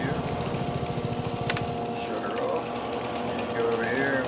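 A riding lawn mower engine in Farming Simulator 22 drones steadily as the mower is driven off and parked after mowing a yard. The buzzing, rattly hum is continuous, with a voice talking over it.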